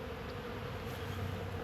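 A faint, steady hum of honey bees buzzing together in winter, a low continuous drone without pauses or voices.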